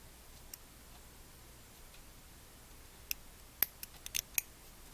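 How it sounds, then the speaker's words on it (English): An X-Acto knife scrapes a diecast car body as it is prepped for paint, making faint, sparse, sharp scratchy clicks that bunch together near the end over a quiet background. "I'll take my X-Acto knife and I'll kind of scrape here, scrape there."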